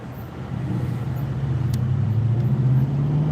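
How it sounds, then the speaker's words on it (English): A SWAT vehicle drives in near a sealed-off area around a barricaded subject, its engine a steady low rumble that grows slightly louder as it approaches, with no voices. "I think it's a SWAT vehicle from the way it sounds."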